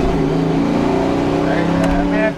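A 1993 Ford Foxbody Mustang with a Cobra setup pulls hard on a 40 mph roll, its loud engine droning steadily with rising harmonics heard from inside the car, ending in a brief shift-like dip.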